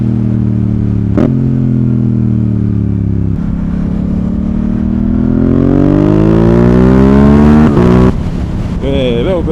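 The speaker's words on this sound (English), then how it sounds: "I'm trying to get better at rev matching the R7." A Yamaha R7 motorcycle engine while riding, close and loud, holding a steady drone before climbing in pitch as the rider revs through gear changes with rev matching, punctuated by a few sharp shifts; the rider speaks at times.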